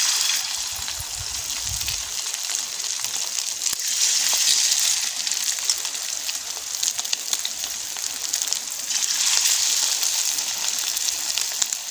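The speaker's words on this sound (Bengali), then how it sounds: "তেল গরম হয়ে গেছে এবার আমি এক এক করে চপটা ছেড়ে দিচ্ছি" Fish roe chops slipped one by one into hot oil, frying with a loud, continuous hiss and sizzle that swells and eases in waves, with a low thump or two at the start and no speech.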